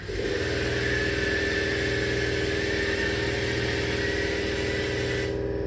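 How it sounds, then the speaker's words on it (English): An air compressor in a home garage, where a damaged 1966 Mustang is being repaired, runs with a steady, loud motor drone and a rapid mechanical pulse, constant and close throughout. "Sorry, air compressor decided to kick on."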